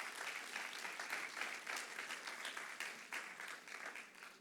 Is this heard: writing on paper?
no